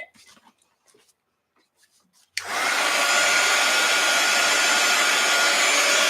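After a few quiet rustles, a hair dryer drying an art journal page switches on with a sudden, loud, steady whoosh that continues close by. A faint low whimper-like tone shows through briefly, and nobody speaks.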